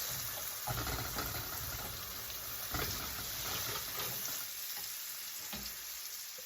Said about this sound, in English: the first thing that's going in, this is an onion, diced up, roughly diced, and 3 stalks of celery, also roughly diced